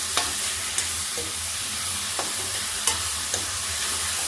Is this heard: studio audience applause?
no